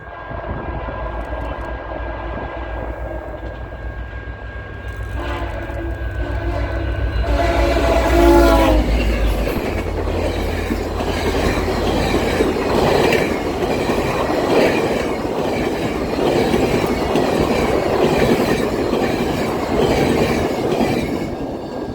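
CN freight M314, southbound on the Bala Subdivision behind two GEVO locomotives with loaded hopper cars, sounds loud horn blasts as it nears, then a sustained roaring rumble and rattle of cars streaming past close by.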